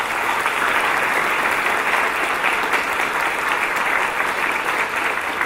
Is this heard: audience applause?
yes